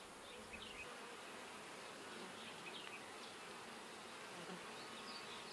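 Honey bees buzz steadily at an open hive while the beekeeper works the frames with a hive tool, a dense continuous drone with faint individual bees flitting close by.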